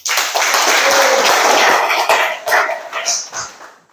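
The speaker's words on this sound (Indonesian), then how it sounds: "Oke, tepuk tangan." A class of trainee soldiers at a military enlisted-rank training school applauds together, a loud dense burst of clapping that holds steady and then thins into scattered claps toward the end.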